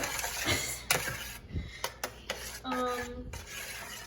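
Metal spatulas chop and mix rolled ice cream on a cold plate, with close, quiet scraping and irregular sharp taps separated by short pauses.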